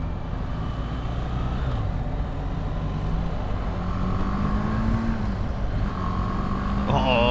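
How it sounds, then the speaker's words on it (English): A small 310 motorcycle engine revs steadily up and down, close and loud, its drone rising in pitch in repeated pulls against constant background rumble. "I can hear you revving the nuts out that little 310."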